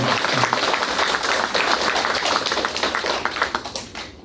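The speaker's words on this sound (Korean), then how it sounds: "박수 한번 드려야죠" A lecture audience at a history hall in Gumi, South Korea, claps briefly, the dense applause holding steady before thinning out and fading at the end.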